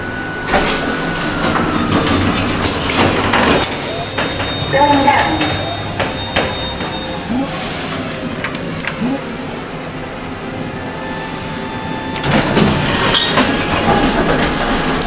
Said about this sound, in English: This lift goes a nice and fast 2 meters a second